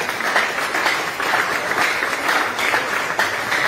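A church congregation applauds together, a dense, steady wash of clapping that holds at an even level throughout with no voices standing out.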